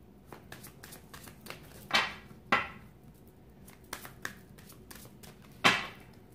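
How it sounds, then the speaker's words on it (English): Tarot cards being shuffled and dropping, with soft papery riffles and several sharp slaps as cards hit a surface, irregularly spaced and close by. "while the cards fall"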